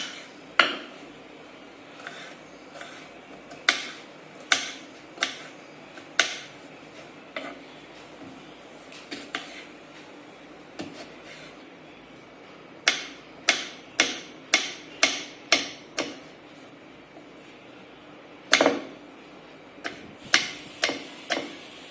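A knife chops raw green mango into small pieces on a cutting board, sharp close taps arriving in irregular clusters and quick runs with short pauses between.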